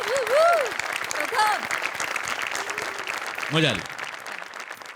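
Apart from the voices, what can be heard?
studio audience applause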